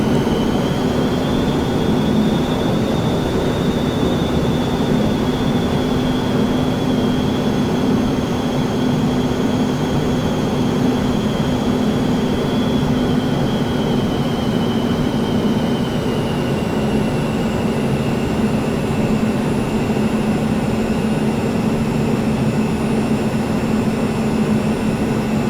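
A small aircraft on a journey across Alaska holds a steady, loud engine drone with a high whine that slides gradually lower as the throttle is worked, continuous throughout with no voices.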